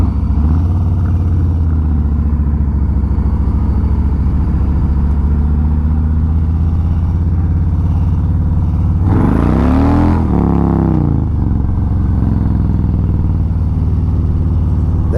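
A 2021 Harley-Davidson Street Bob 114 and a Triumph Bobber Black pull a first-gear roll-on, a loud steady engine drone with a sharp revving surge near the middle before settling back.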